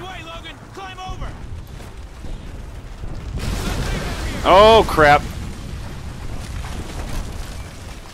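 A rumbling explosion bursts behind running players in the Call of Duty Ghosts campaign, a sudden broad roar that swells and sustains to the end, with people talking and yelling over it.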